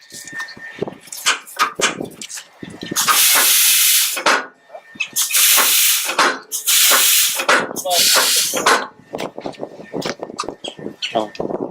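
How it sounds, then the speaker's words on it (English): A WD-40 aerosol can sprays in several loud, close bursts of hiss, each lasting a second or two, amid clanking and handling noises while restoring an old Kansas Jack frame-machine body puller. "little WD-40 goes a long way"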